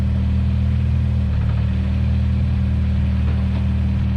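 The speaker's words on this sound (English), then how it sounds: "Gearbox sounds really whiny to me." A K24-engined Honda Civic EG race car at Croft, a loud continuous engine drone with a low rumble, steady throughout and heard from inside the car, no talking.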